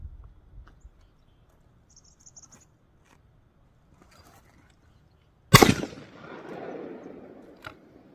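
A single loud shotgun blast from a Pointer Acrius 12 gauge cuts through quiet outdoor ambience with faint insects, followed by a long rolling echo and a small later click.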